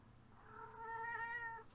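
A house cat gives a single drawn-out meow, fairly quiet and close, rising and then falling over about a second against a soft room background.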